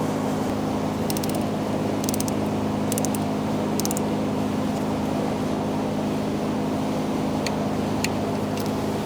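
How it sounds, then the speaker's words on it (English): A torque wrench ratchets on a valve cover bolt of a 2012-2017 Hyundai Accent 1.6L four-cylinder, giving several short clicking bursts over a constant loud mechanical hum. "we're going to be torquing this bolt to 84 inch-pounds as well"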